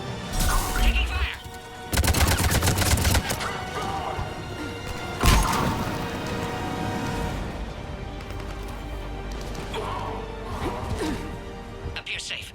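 Mass Effect 3 combat with loud bursts of weapon fire and heavy crashing impacts in bunches, under urgent radio chatter and speech.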